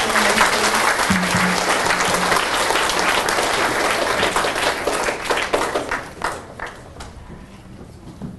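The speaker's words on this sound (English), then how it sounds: "We just have one more round of applause for our essay winners" A school audience at a DARE ceremony claps for student essay winners: loud, full applause with some cheering that thins into scattered claps and fades away near the end, with voices faintly heard.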